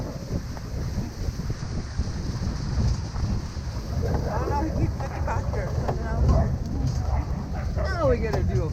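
Sled dogs bark and yelp in short excited bursts over steady wind rumble and some voice sound while mushing in Juneau, Alaska, the barks growing busier and louder in the second half.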